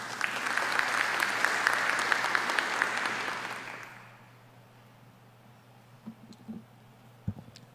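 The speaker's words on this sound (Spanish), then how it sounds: "la congresista Rosángela Barbarán Reyes, a quien recibimos con fuertes palmas, por favor." Audience applause greets a congresswoman at the opening session of a national youth parliament plenary, loud and steady for about four seconds before fading away, leaving a quiet room with a few faint clicks and knocks.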